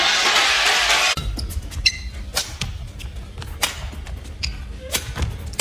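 Shuttlecock struck by rackets in the Denmark Open 2021 badminton final, sharp close cracks of hits and quick shoe squeaks over a steady crowd murmur, with a few sharp impacts through the rally.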